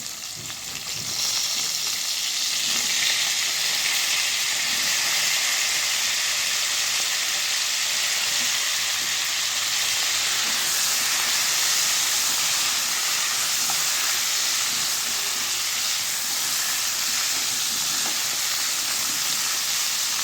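Potatoes and cauliflower fry in hot oil in a pan for a fish curry, giving a steady, loud, close sizzle and hiss that runs unbroken throughout, with no talk over it.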